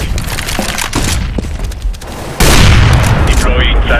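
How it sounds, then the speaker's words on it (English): A flashbang grenade goes off in Counter-Strike on the Cache map, a sudden loud burst midway that leaves a sustained bright ringing wash over the busy game sounds before it. "I'm throwing a flashbang."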